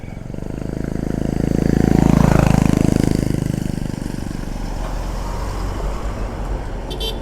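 A vehicle engine swells and roars past close by, then fades into steady road noise as traffic keeps moving.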